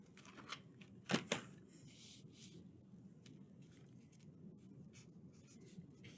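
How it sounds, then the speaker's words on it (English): A pen writing on paper for a Sunday school craft makes faint, soft scratching strokes, with a few sharper taps near the start, in a quiet room. "we're going to start off by just writing down what it is that happened in this story"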